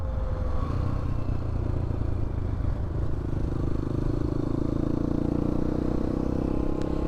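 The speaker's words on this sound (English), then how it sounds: "I hope you guys can hear the exhaust. It sounds good. It's got that big thumper sound to it, even though it's just a little 250." A 250cc GPX FSE250E motorcycle's exhaust thumps with a steady, deep single-cylinder burble, loud and continuous throughout with some road clatter and no talking.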